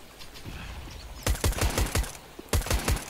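Video game gunfire rings out in two short bursts of rapid sharp shots, a quick volley mid-clip and another near the end, over a low ambient background with no voices.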